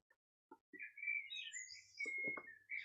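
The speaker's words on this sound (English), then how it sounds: "The birds are loud today, aren't they?" Garden birds chirp and tweet nearby, short clicks and then longer whistled calls with brief gaps, clear against an otherwise quiet background.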